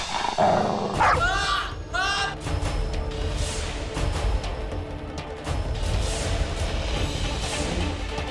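A dog growls and barks in a dramatic mythological scene, with rough harmonic yelps near the start over a dense, loud background of music and effects that continues throughout.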